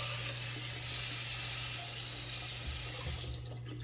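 A hotel room sink faucet runs water steadily in a bright, hissing stream, close and fairly loud, until it cuts off near the end.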